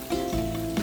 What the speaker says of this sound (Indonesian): Diaduk-aduk aja seperti ini